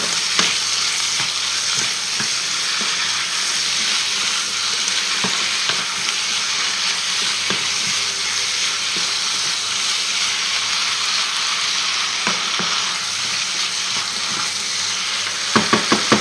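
Mushrooms, tinned rather than fresh, fry in a pan for a chicken blanquette, a constant close sizzle with regular spoon scrapes and taps as they are stirred, growing into a quick cluster of knocks at the end.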